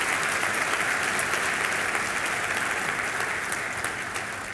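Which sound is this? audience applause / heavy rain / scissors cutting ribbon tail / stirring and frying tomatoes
audience applause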